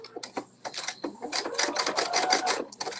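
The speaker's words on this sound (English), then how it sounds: "we're gonna sew with 5/8 inch seam allowance" A sewing machine stitches a 5/8 inch seam on a novelty kimono, its rapid needle chatter running in short bursts that build into a steady, close whir before pausing.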